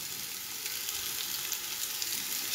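Onion and carrot sauté in a pan, giving a steady, soft hiss of frying with faint stirring scrapes throughout, close but fairly quiet.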